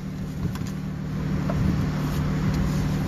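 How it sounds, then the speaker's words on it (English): A supercharged V6 Lotus car engine hums steadily and fairly close for about three seconds, a low droning note that swells slightly partway through, with no talking. "is the sweet sound of a V6 supercharged Lotus"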